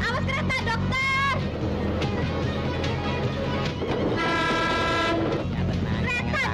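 A train rumbles past with repeated blasts of its horn, loud and close, a continuous mechanical roar underneath.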